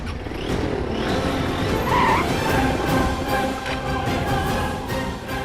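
Several cars race and skid, their tires squealing over a loud, continuous engine roar that holds steady for the whole stretch with no voices.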